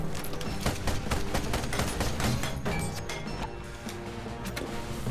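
Ship cannons firing in the video game Ironcast, heard as a dense fusillade of rapid booming shots and crashing impacts, loud and close at first and thinning slightly toward the end, with no voices.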